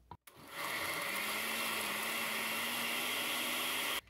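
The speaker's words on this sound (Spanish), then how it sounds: "Tapamos y licuamos." A blender whirs loud and steady for about four seconds as it purees soaked chiles with a little of their cooking water for adobo, starting with a brief click and stopping abruptly.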